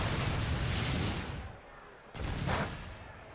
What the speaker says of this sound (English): is going to go for the Explosion.